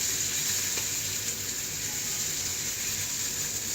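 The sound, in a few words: salmon patties frying in a pan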